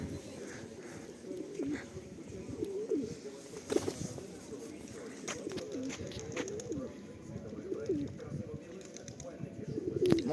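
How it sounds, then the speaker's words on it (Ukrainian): Soft, low pigeon coos repeat through a murmuring background in the centre of Truskavets on a foggy day, with faint voices and some scattered knocks nearby. "Голуби сплять, відпочивають."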